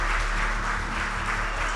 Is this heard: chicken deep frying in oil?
no